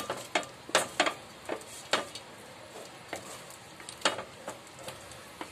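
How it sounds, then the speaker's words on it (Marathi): Tomato, coriander, green chili and ginger paste frying for a crab curry over low to medium heat, giving soft sizzling with irregular sharp clicks and spoon taps from stirring, fairly close and quiet. "आपल्याला एकदम मंद आचेवर, मंद ते मीडियम आचेवर फ्राय करायचं आहे"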